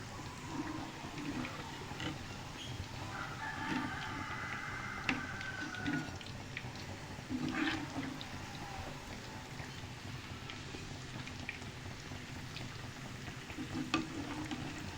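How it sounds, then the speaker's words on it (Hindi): Onion and potato pakoras fry slowly in oil over a low flame, giving a soft, crackly sizzle that runs throughout. Occasional stirring and clinking sounds rise above it, and the whole scene is fairly quiet. "इस तरह अब हम इस पर डाल के स्लो आंच पे इनको खस्ता सा अब हम फ्राई करेंगे"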